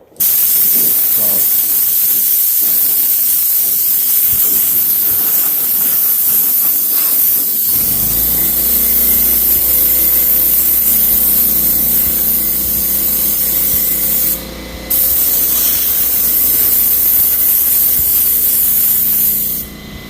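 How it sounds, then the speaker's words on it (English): A paint spray gun hisses continuously at close range on a car bumper cover for a long stretch, with a brief pause near the end before it resumes. "grab my gun and spray it anyway"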